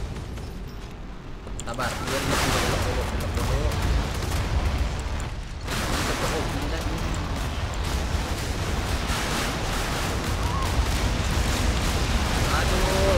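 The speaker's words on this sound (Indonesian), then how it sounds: "Ini adalah ledakan." Continuous booming explosions and rumbling blasts from a nuclear missile weapon in an online war video game fill the scene, dense and loud, with a voice briefly speaking over the chaos.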